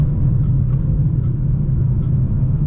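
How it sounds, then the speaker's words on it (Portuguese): A 2027 Jeep Avenger Limited accelerating hard, a loud, steady low engine rumble heard from inside the car, with faint higher noise flickering above it. "Eu vou dar uma puxada com o carro um pouco mais forte"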